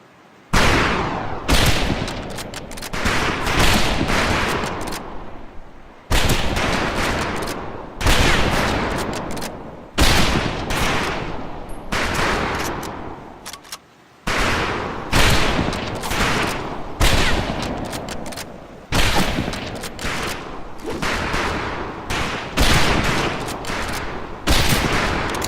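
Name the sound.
rifle fire on shooting range in video game Medal of Honor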